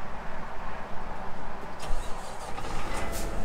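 A 2020 Kenworth 990 truck with a 565 hp Cummins X15 diesel cranks and fires up, the big engine catching into a low rumbling idle, heard close from the cab without talk.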